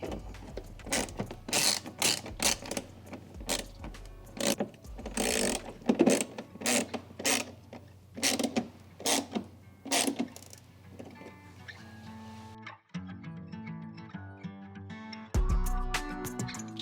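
A ratchet tool snugs up the screws on bolt-on carbon fiber mud flaps of a Rivian R1T or R1S, giving bursts of rapid clicking in a quick repeating rhythm, then quieter mechanical ticks.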